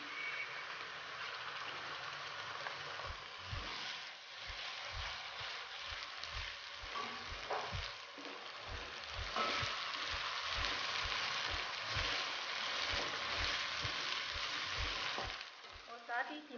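Ginger garlic paste frying in oil with light-browned onions for keema, a steady close sizzle throughout with repeated soft scraping stirs of a spoon in the pan.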